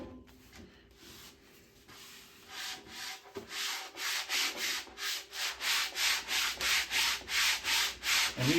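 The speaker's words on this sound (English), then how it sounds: "If you rub your palm back and forth a couple good times" A palm rubs back and forth over a pinball playfield overlay, starting soft and irregular, then settling into a steady run of close, loud, rhythmic swishing strokes.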